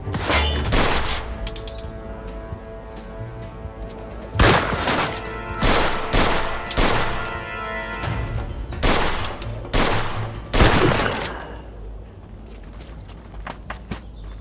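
Gunfire in the video game Mafia II: a rapid series of loud, sharp shots in clustered bursts with short gaps between them, followed by quieter scattered sounds as the firing dies down.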